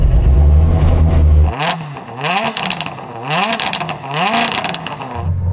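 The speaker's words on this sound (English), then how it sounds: "let's have a listen to your little four-cylinder" A four-cylinder rallycross car engine revs hard in repeated rising bursts, each climb falling back before the next, loud and close with no talk over it.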